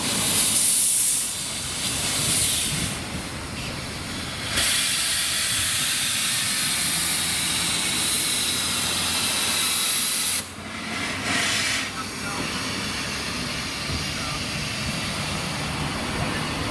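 Loud, steady hissing and rushing of a steam locomotive's exhaust on the Welshpool & Llanfair Railway, broad and noisy, with brief shifts in intensity and no clear talk.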